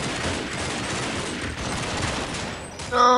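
Dense automatic gunfire in the game Counter-Strike, a continuous crackling burst of shots that ends with a sharp tonal game sound, fairly loud with no clear talking.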